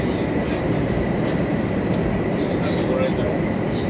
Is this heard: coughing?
no